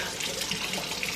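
Water from a kitchen tap runs steadily into a sink, a continuous hissing splash at moderate volume with no break.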